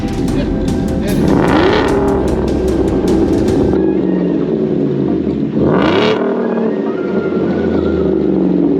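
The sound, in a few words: supercharged pickup truck engine revving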